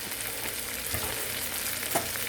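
Garlic shrimp sizzle and crackle in a hot pan, a steady loud frying hiss with a couple of soft stirring knocks as the pieces are turned.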